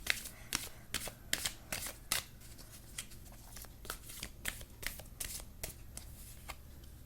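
A tarot deck is shuffled by hand in quick riffles and soft slaps, with bursts of papery flutter coming in uneven groups and short pauses, quiet and near.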